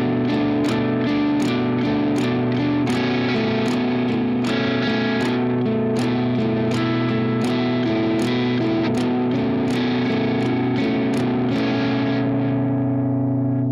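A distorted electric guitar plays a riff at a slow tempo. Sustained, heavily driven chords are struck in a steady rhythm with crisp pick attacks, and no one talks.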